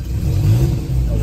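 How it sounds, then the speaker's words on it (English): A Morris 8 car engine runs and is revved, a steady low mid-range rumble swelling and easing over about a second, close and loud with no talk. "and we rev her, and away she goes."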